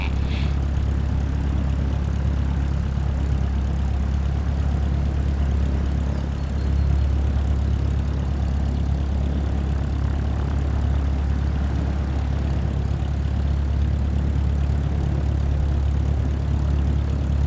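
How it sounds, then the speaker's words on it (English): A propeller airplane in Microsoft Flight Simulator taxis along a runway, a loud, steady, droning engine hum with deep low rumble that holds constant throughout, no voices. "it looks like we're taxiing down and turning around"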